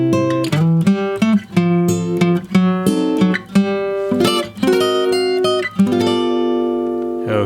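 A slow walking blues turnaround in C on guitar, with bass notes walking beneath chord shapes in a steady, close, clear rhythm that ends on a held chord.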